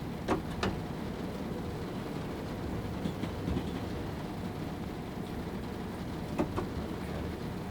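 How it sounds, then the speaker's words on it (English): Inside the driver's cab of a Class 377 electric train in Train Sim World 2, a steady low rumble and hum runs throughout, with a few faint clicks and clacks rising over it at moderate loudness. "For those who want to hear a train from inside the cab."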